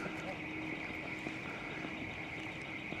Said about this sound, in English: I think I've found the alarm, folks.